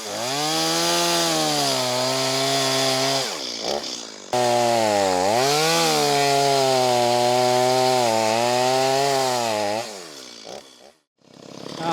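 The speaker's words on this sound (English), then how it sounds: "I wish you left me a saw that would still idle." A chainsaw cutting into a tree, loud and close, its engine revving high and steady with pitch dips as the chain bites, a brief drop midway, then winding down near the end.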